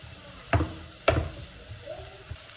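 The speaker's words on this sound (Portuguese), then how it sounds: "E aí, já vou refogar a minha carninha moída" Ground beef sautés in a pan with onion, garlic and beef broth: two sharp clatters of utensil against pan sound over a continuous soft sizzle that keeps going quietly afterward.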